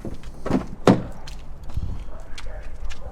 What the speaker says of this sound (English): Back door